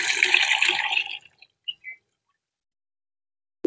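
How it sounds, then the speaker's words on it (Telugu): Rice water mixed by hand with vegetable peels, about a second of wet sloshing and squishing followed by a couple of faint drips, then near silence. "ఈ రెండింటిని కూడా నేను మిక్స్ చేస్తున్నాను."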